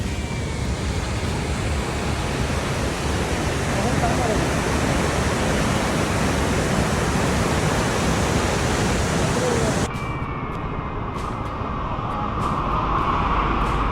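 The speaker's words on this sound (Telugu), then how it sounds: "ఇక్కడ మున్నార్ టు కొచ్చిన్ వెళ్ళే దారిలో this is the biggest water fall." Large roadside waterfall on the Munnar to Kochi road, Valara falls, a loud unbroken roar of rushing water heard up close, dropping slightly in level near the end as the sound shifts.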